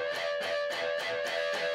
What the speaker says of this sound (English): So these are pinched harmonics, meaning I'm hitting the string with my pick, my thumb